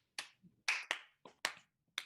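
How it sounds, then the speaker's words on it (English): A handful of separate, sharp handclaps at a comedy show, about six scattered claps spread over two seconds with silence between them, coming from a small, sparse audience and not a full crowd. "Round of applause for pubes."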